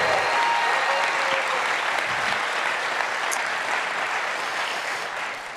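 Steady audience applause for a speaker at an info session, a broad, even rush of many hands clapping at moderate volume, holding for several seconds before tapering slightly at the end.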